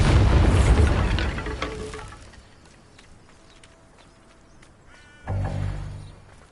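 A Bombarda blasting spell in Hogwarts Legacy goes off as a loud, broadband boom, its rumble decaying over a couple of seconds into quiet, followed by a second heavy thud near the end.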